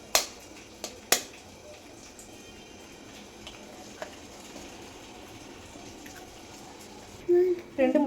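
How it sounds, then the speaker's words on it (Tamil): Two eggs cracked into a bowl while making a chocolate fudge cake, several sharp taps near the start followed by a quiet stretch and a soft wet pour of the eggs near the end. "ரெண்டு முட்டை உடச்சி ஊற்றியாச்சு."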